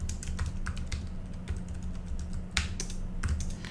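Keys clatter steadily as someone types commands on a computer keyboard in a terminal, quick irregular clicks close by with a few louder strokes and a low hum underneath, no talking.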